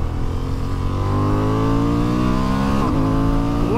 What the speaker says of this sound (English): It is a lovely, energetic, sprightly engine, this.